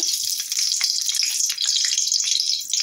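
Dried red chilies dropped into hot fish oil give a steady, close crackling sizzle that hisses on without pause, with no voices.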